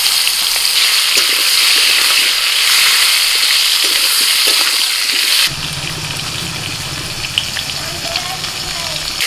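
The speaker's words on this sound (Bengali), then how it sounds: "বেগুন ভাজা তেলের মধ্যে আমি পটলটা ভেজে নিচ্ছি" Pieces of pointed gourd (potol) fry in hot oil left from frying brinjal in a wok over a strong flame, giving a steady, loud, close hiss that drops to a softer sizzle partway through as the pan is lifted.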